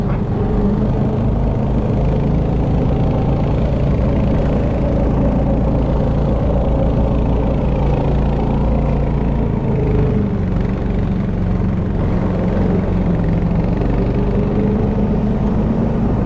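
A vehicle pulls a trailer through untracked snow. Its engine gives a loud, steady, low drone that runs unbroken throughout.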